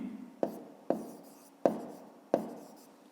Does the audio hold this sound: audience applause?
no